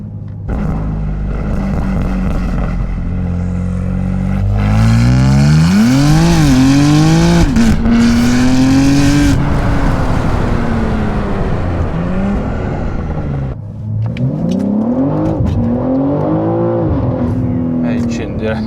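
A 2024 BMW M3 G-Power Competition accelerates hard, its engine revving up through the gears with rising and falling pitch, loud and close, a brief dip at a gear change, while someone talks over it.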